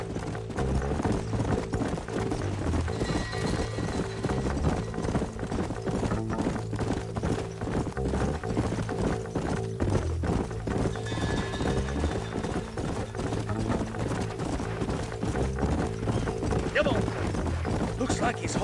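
Horse hooves clip-clop steadily on a trail in the Red Dead Redemption video game, a continuous rhythmic patter under a dense game soundtrack with music and a brief whinny-like cry.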